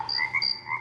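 Frog ribbits from the wake-up sound of a Dekala lamp: a few short croaking calls in quick succession, fairly close and clear against quiet background hiss, with no talking.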